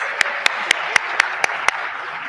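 Audience applause at a Kamala Harris economic opportunity event in Charlotte, heard as a steady, moderately loud wash of clapping with sharp periodic claps standing out in a regular rhythm about every quarter second.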